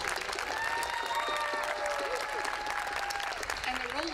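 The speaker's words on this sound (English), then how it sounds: "Let's give them a big round of applause." An audience at a high school music department spring concert applauds for student officers, steady clapping with some voices and whistle-like tones over it.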